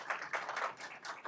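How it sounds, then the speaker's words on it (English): Audience applause in a public policy conversation event with a US senator, a short burst of scattered clapping from a crowd, moderately faint and heard on its own without talk. "you're getting Please. applause"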